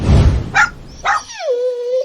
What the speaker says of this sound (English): Isn't this the noble consort's dog?